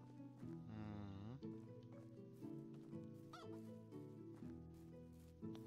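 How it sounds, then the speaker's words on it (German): Chickens and geese in the medieval village-life video game Medieval Dynasty cluck and honk over a steady droning, tonal game background, the fowl calls blending in at a fairly even level with no speech. "auf Hühner und Gänse aufzupassen."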